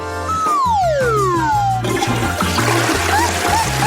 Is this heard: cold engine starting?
no